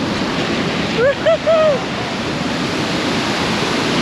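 High ocean waves crash during a king tide on the Oregon coast, a dense, continuous roar of surf filling the scene, with a brief whistle-like call rising briefly above it.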